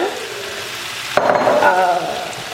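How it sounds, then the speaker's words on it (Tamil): Small pieces of boneless chicken breast, cut for a pizza topping, hit a hot pan: quiet background sizzle, then a sudden louder burst of frying that hisses steadily before easing slightly. "நான் வந்து சிக்கன் போட்டு வதக்க தான் போகிறேன்"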